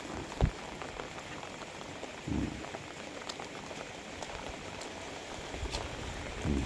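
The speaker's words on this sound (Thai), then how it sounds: "ตอนนี้ฝนตก" Steady rain patters on surfaces nearby behind a house at night, a dense continuous hiss with a few louder drips and thumps.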